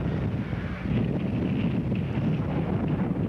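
Wind gusting across Turco Field in Walpole during a high school football game, a steady rumbling buffet of wind noise against the microphone with no clear voices.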